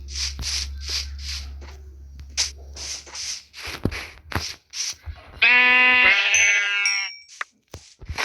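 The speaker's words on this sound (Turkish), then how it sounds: "Aha bir koyun." A sheep bleats once in Minecraft, a loud wavering baa, after a series of rhythmic rustling, scraping game sounds and soft thumps.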